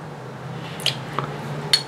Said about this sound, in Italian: A questo aggiungiamo le due uova e i due cucchiai di miscela di acqua e vaniglia.